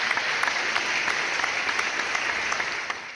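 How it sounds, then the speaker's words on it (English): A steady round of canned applause plays as a sound effect on a barbecue podcast, with dense, even clapping that holds at a moderate level and fades slightly at the end. "I will actually put a bit of a round of applause in for you as well"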